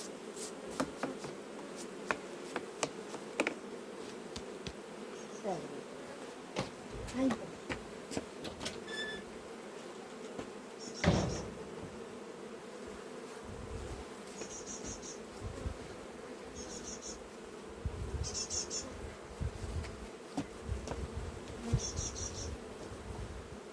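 Honeybees and a drone buzz at a beehive, a steady close insect hum running throughout with occasional louder passes, clicks and handling noises, and someone speaking at times over it.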